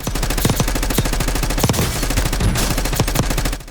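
Rapid automatic gunfire in the video game Call of Duty, a dense unbroken stream of loud shots with clattering mechanical detail, steady and close for the whole stretch.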